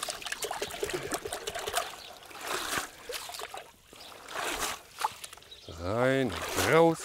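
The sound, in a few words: bonsai hornbeam root ball shaken in water barrel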